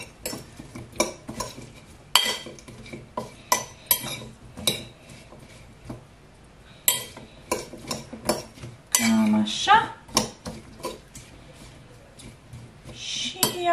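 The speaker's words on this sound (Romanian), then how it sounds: "O adaug puțin ulei de măsline și puțină sare și amestec un pic și salata mea e gata." Vegetable salad tossed with olive oil and salt, a run of sharp utensil clicks and clinks against a bowl in uneven bursts, close and fairly loud, with a few brief scraping swishes.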